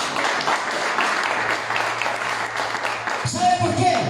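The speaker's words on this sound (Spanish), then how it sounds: "Un aplauso al Señor." An evangelical congregation applauds for the Lord, a crowd of clapping hands at moderate loudness mixed with voices, shifting into a busier, louder stretch near the end.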